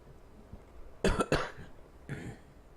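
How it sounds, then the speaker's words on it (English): A person coughs in two harsh, close bursts, followed by a softer cough or throat clear a moment later. "I've already restarted this video once because of my coughing"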